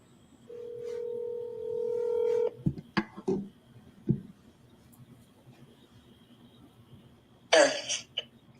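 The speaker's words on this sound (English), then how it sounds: "Okay, Liz, I'm going to try to call you, okay?" Telephone dialing tones sound while a call is being placed from a courtroom, starting with a sustained steady tone and followed later by a short burst of rapid keypad beeps. Throat clearing and small handling noises fall in between.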